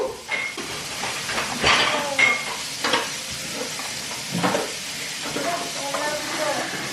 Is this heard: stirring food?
yes